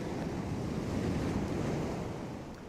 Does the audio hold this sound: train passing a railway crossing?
no